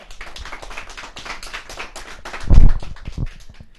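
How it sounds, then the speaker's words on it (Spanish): A small studio audience claps, a close, uneven patter of individual hand claps with a louder cluster of sharp claps near the end. "Un aplauso para ellos"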